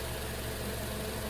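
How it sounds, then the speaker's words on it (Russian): A Renault K4M car engine idles while it warms up, giving a faint, steady mid-pitched hum with a slight even vibration throughout and no voices. "Прогреваю мотор до рабочей температуры, до срабатывания вентилятора радиатора."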